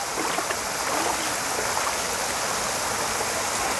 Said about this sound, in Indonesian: ini juga air terjun kecil